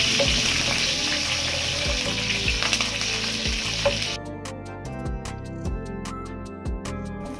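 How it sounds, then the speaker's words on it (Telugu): Curry leaves and dried chillies frying in hot oil for an Andhra fish curry, a steady close sizzle with crackling pops that turns sharper and more spattering partway through, no voices. "కరివేపాకు వేయగానే ఆయిల్ ఎగురుతుంది"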